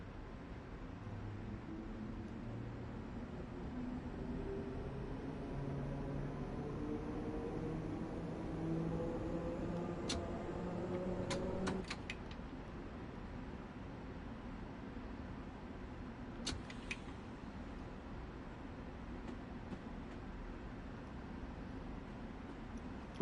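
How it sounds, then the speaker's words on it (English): Constant hiss of train air conditioning in a cab in Train Sim World 4, a video game, steady broadband noise with a rising whine from the train and a few brief clicks over it. "All you can hear is the bloody air conditioning going on."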